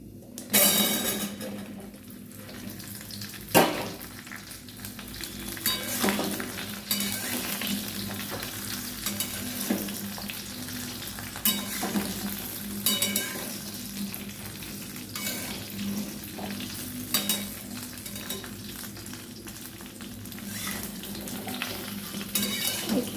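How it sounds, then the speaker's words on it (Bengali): Jujubes are tipped into hot oil for a pickle and stirred, giving a steady frying hiss with repeated spoon scrapes and knocks against the pan, close and continuous, without speech. "এবার এগুলো একটু নাড়াচাড়া করবো এবার কুলগুলো ঢেলে দেবো"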